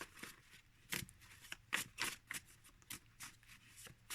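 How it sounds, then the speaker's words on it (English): A tarot card deck is shuffled by hand, gentle overhand shuffling giving a series of soft, crisp papery slides and taps, close and quiet with no talking. "But let me go and shuffle it"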